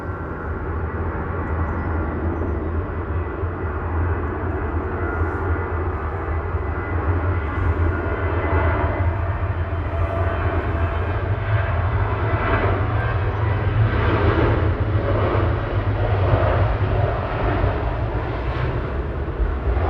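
An airliner on flight 1145 to Berlin departs Manchester Airport, a steady broad jet engine roar holding throughout at moderate distance, rising slightly toward the end, with no talk over it.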